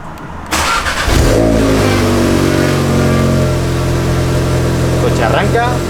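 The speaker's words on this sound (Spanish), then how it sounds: "El coche arranca." A Volkswagen Golf R with a 2.0 TFSI engine and new spark plugs and ignition coils cranks and catches, then settles into a steady, loud idle close by, with a brief rev as it starts.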